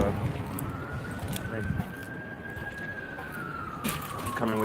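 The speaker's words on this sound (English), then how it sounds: "Coming with the sirens." A police siren wails in a long rising and falling tone over heavy background rumble, with a few sharp knocks and noises nearby.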